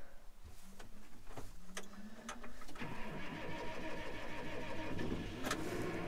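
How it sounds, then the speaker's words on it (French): A farm tractor's engine is started up to warm it before hauling manure: a few clicks and a short cranking whine, then the motor catches at about 3 seconds and keeps running steadily and fairly loud, with no talking. "on va faire chauffer un peu le tracteur"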